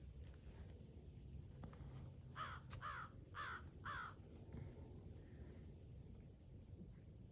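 Crows giving a quick run of four harsh caws over faint outdoor background noise, fairly distant and clear.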